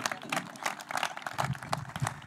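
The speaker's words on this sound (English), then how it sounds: "Please give him a round of applause" Audience applause in a hall after a speaker's introduction: dense, steady clapping from many hands throughout, moderately loud and close, with no talk over it.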